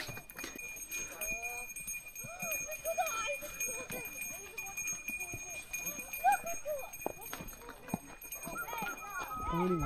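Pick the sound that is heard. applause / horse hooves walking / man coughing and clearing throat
horse hooves walking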